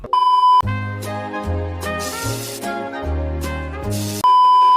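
A phone gives a clear electronic beep as a voice assistant opens on its own, a loud steady tone at the start and end framing a short burst of musical tones in between.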